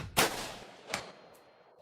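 A sharp rifle shot cracks loudly at a shooting range during practice at up to 300 yards, followed by a fainter second report and a decaying tail, with another faint burst near the end.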